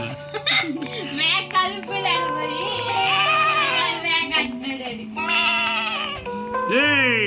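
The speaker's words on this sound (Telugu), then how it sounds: "పులి కాదు మేక" Goat bleats in a Roblox game rise and fall repeatedly over steady tones and background game music, with excited voices chattering and laughing alongside.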